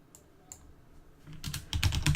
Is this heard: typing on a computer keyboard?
yes